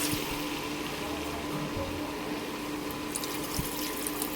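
Mutton stock (yakhni) is poured into a pot of mutton nalli pulao, giving a steady, soft, continuous liquid pouring and splashing that stays faint and even throughout.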